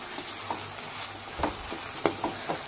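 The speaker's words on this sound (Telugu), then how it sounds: "ఆనియన్, టమోటా, పచ్చిమిర్చి 3 కలిపే వేసాను. విడివిడిగా కూడా వేయించుకోవాల్సిన అవసరం లేదు, అవే వేగిపోతాయి." Onion, tomato, green chili and curry leaves frying together in one pan on a home stove, a soft, even sizzle broken by several clinking spoon strokes as they are stirred.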